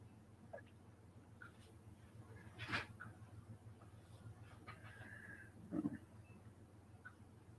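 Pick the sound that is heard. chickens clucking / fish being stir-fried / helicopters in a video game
chickens clucking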